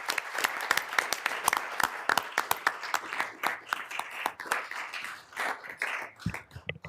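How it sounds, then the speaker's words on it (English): Applause from a board meeting audience honoring a colleague: a dense burst of many hands clapping, steady at first then thinning and trailing off near the end. "let's give Greg a big round of applause"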